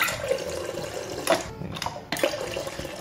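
Water pouring from a refrigerator water dispenser in a home kitchen, a few short bursts of running liquid with clicks and pauses between them, close and moderately quiet.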